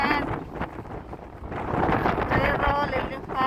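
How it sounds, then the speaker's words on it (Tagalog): Wind gusts rush against the microphone in Oslo, Norway, while a voice talks over them, the blustery roar building louder in the second half. "Mahangin."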